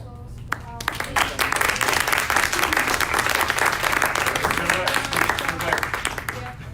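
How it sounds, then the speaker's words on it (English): Warm audience applause at a product management meetup: a full, steady burst of many people clapping that begins after a few scattered claps and holds strong, with some voices underneath. "So can I have a round of applause for our"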